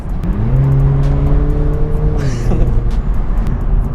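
A BMW Z4's two-litre engine revs up loudly nearby, its pitch climbing and then holding steady as the car accelerates.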